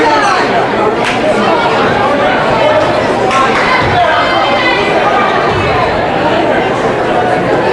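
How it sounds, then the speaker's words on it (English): Steady crowd chatter fills a gym during a girls' high school basketball game, a dense, continuous babble of many voices with occasional louder shouts rising above it. "Excellent crowd for this game as well"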